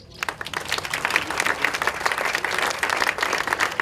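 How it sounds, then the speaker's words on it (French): A crowd applauds steadily at an outdoor inauguration of a historic village trail, dense, continuous clapping that swells quickly and holds at a fairly even level throughout. "On peut les applaudir."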